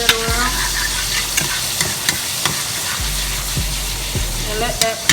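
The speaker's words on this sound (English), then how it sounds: "I'm still stirring this up over here" A spoon stirs garlic in a hot pan for shrimp alfredo, with repeated sharp scrapes and clicks over a steady low sizzle, close and fairly loud.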